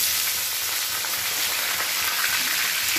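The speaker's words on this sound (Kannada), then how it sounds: "ಈರುಳ್ಳಿ ಮತ್ತು ಕರಿಬೇವಿನ ಸೊಪ್ಪು ಜೊತೆಗೆ ಹಾಕ್ತಾ ಇದ್ದೀನಿ." Onion and curry leaves fry in hot oil in a pan for a breakfast uppitu, a steady, dense sizzle running unbroken and fairly loud throughout with no voices.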